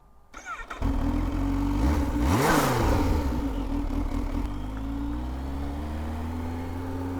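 A Kawasaki Z H2 motorcycle engine fires up and revs hard, pitch sweeping up then settling into a steady, loud idle-like drone close by.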